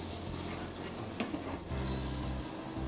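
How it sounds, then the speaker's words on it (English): Steady sizzling and crackling of butter frying in a hot pan, close and continuous, with a faint clink of a utensil partway through. "the sound of butter sizzling."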